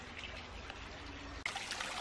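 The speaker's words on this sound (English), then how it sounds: "You can see the waterfall." Water trickles and splashes steadily in a backyard waterfall garden, a continuous close dribbling wash that brightens slightly near the end.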